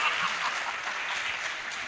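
Audience clapping at a speech event in a Hindi literary festival, a dense steady burst of applause from a crowd, moderately loud and sustained throughout without pause.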